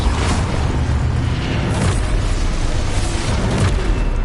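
Hogwarts Legacy's Confringo blasting spell erupts in loud, booming explosions, a dense rumbling blast that fills the whole moment up close.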